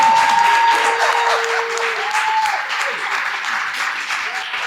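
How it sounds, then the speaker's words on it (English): Sustained audience applause at an award presentation during a music business fireside chat, a dense steady wash of clapping that carries on without a break, with faint chatter and a few whistles mixed in. "Guys, let's keep clapping."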